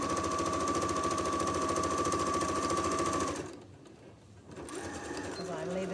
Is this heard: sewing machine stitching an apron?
yes